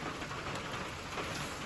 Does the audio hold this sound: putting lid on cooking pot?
no